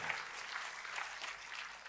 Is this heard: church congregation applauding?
yes